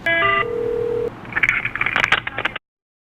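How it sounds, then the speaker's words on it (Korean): Short telephone tones and a steady electronic beep as an office call is transferred, followed by faint clicks and rustling before cutting to silence. "제가 전화 돌려드리겠습니다"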